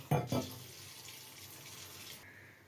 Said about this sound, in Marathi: हे ज्या भांड्यात आपण कोळ केला होता त्याच भांड्यात मी अजून पाणी घेतलं, ते टाकलं